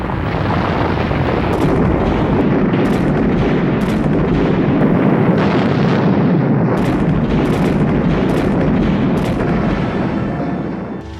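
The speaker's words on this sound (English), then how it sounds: "Leningrad endures the unremitting fire of the German artillery." German artillery pounding besieged Leningrad, a dense continuous roar of overlapping blasts and rumbling booms with sharper cracks scattered through, loud and sustained without any voices.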